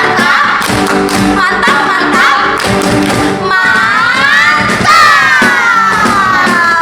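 Children at a Sunday school service in Bandar Lampung perform a rhythmic clapping cheer, loud patterned claps and thumps mixed with shouted chanting and cheering voices, close and energetic throughout.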